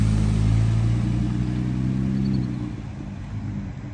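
A Jeep JLU drives past close by, its engine loud and throaty at first, then easing and fading as it moves away.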